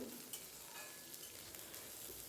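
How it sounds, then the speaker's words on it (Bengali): Potato, carrot and chopped onion fry in a pan: a steady, continuous crackling hiss with occasional faint stirring clicks, close and fairly quiet. "আলু আর গাজরটা ভালোভাবে ভাজা হয়ে গেছে, এরপর দিয়ে দিলাম পেঁয়াজ কুচি।"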